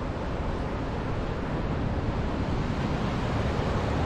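Water rushing below a bridge in downtown Ottawa near Parliament Hill, a loud, steady roar of turbulent flow that fills the whole clip without breaks, with no voices over it.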